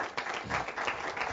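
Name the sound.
audience applause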